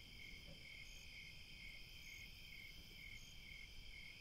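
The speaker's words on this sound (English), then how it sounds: "I was hoping that maybe you could hear the crickets." Crickets chirp steadily at night outdoors, a continuous, even trilling that stays at a faint, constant level through the whole stretch with no voices.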